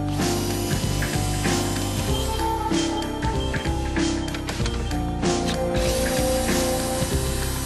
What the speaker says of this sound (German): Mithilfe eines Akkuschraubers werden dann die Schrauben entlang des Scheibenwischergestänges herausgedreht